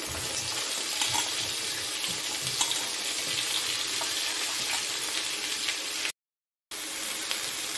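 Steady, loud sizzling of okra frying in hot oil, with faint stirring scrapes, continuing throughout with one brief dropout near the end.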